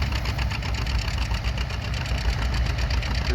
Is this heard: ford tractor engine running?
yes